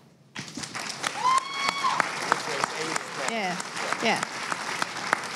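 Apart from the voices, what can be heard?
live audience clapping on request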